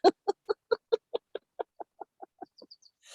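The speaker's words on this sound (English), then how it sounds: "sometimes those birds are roosters and they're way loud." A series of evenly spaced clucks from a chicken, slowing and fading over a few seconds, ending in a brief rustle.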